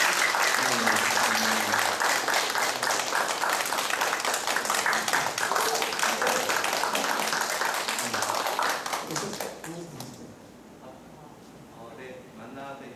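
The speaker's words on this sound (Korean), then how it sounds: "박수하겠습니다" A church congregation applauds during a Sunday worship service, dense sustained clapping filling the room for about ten seconds before fading, after which someone speaks over the quieter hall.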